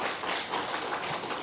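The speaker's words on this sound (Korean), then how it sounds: "유호임 주사님, 우리 전미준 주사님 성탄의 축복을 많이 받으시라 박수 한번 보내십시다" A church congregation applauds during a Christmas service, a steady wash of clapping at a modest level that runs through the short moment without a break.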